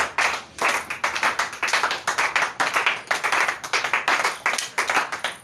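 A church congregation at a French-language Holy Spirit sanctification service claps together in a steady, brisk rhythm, loud and close, with no talking.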